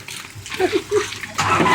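A bucket of water is dumped in an outdoor ice bucket challenge, giving a brief splash and slosh with a few voices talking around it.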